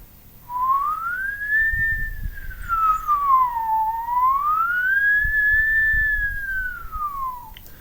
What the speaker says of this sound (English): I can also do whistling.